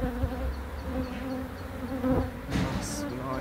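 Bees buzz faintly and steadily around a large hive exposed during a relocation from a demolition site, with a soft, continuous drone and some low background noise.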